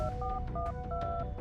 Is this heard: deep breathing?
no